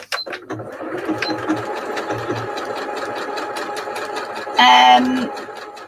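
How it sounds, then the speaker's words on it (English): A sewing machine stitches rolls of fabric scraps with a steady, fast mechanical chatter, running under a person talking, then ending with a brief louder whirring buzz. "I'm going to sew that one there"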